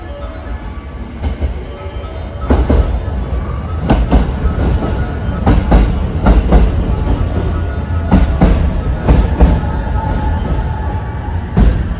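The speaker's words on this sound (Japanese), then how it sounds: "この列車が大阪から和倉温泉までを直接結ぶサンダーバード号のラストランということになります" A Thunderbird limited express train running between Osaka and Wakura Onsen on its last run rumbles steadily along the rails, with a repeating clickety-clack of wheels over rail joints, loud and close with no talking.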